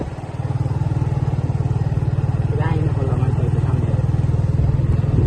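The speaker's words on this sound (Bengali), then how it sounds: "বাইক রাইড করতে থাকুক" A motorcycle engine drones steadily and close throughout a ride past flowers and trees on an outing to a dairy farm, with a faint voice occasionally audible under the engine.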